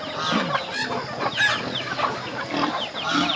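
Several chickens cluck and chatter close by, overlapping bursts of clucking with a few higher squawks, busy and continuous.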